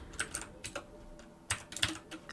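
Keystrokes on a computer keyboard while entering text into an HTML form, quiet and close, in two short irregular bursts of clicks separated by a pause, with no talking.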